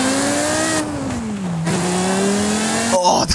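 A Porsche Carrera GT engine in the Forza Horizon 5 racing game revs hard with a steady, rising and falling tone, briefly easing off mid-way before climbing again, loud and close with no talk.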